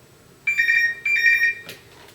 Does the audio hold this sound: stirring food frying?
no